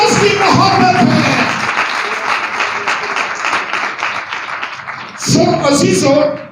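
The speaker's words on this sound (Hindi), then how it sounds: "उसकी मोहब्बत के लिए जोरदार ताली।" A church congregation applauds in bursts of hearty clapping at the start and again near the end, with a preacher's voice carrying over and between the applause.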